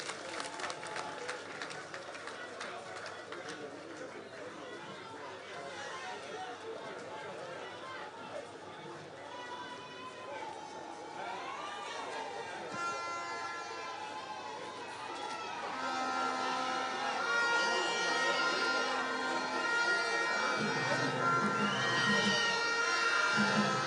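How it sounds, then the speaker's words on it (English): Crowd at the opening of an affordable housing project in Asokore Mampong, Ghana, cheering and applauding with mixed chatter and shouts, growing louder toward the end while voices speak over it. "A round of applause for him, please."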